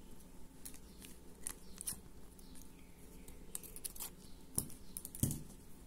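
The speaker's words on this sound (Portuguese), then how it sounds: "Então, eu vou tá cortando a linha aqui." Scissors snip sewing thread during a handmade children's constellation rug project, a few quiet, sharp cuts spaced irregularly over faint background noise with no talking.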